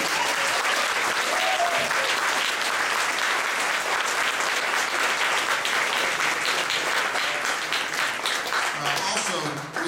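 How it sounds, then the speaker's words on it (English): Sustained, dense applause from a concert audience after a university jazz ensemble set, steady and loud for the full stretch, with some crowd voices mixed in before it tapers at the end. "And another round of applause."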